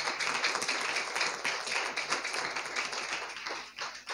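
A church congregation claps for Jesus, a dense, fairly even burst of many hands clapping at moderate loudness with no speech over it.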